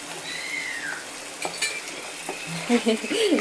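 Salted tomatoes sautéing in a pan for tomato curry, an even close sizzle with spoon clinks and stirring scrapes, plus faint tonal whistles and chirps in the background.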